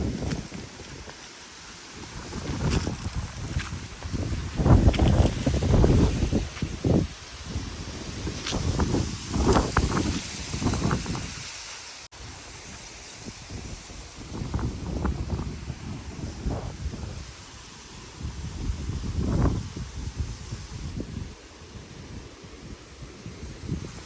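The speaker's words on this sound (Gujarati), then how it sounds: "બરાબરનો પવન તો આવવા લાગેલો છે," Strong cyclone wind buffets a yard with trees in repeated loud gusts that surge and fade over a rough, blustery background.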